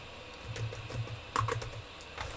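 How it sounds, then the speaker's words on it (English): Quiet, brief bursts of computer keyboard typing, a few scattered keystrokes across a couple of seconds with no speech. "So let me just type in useContext"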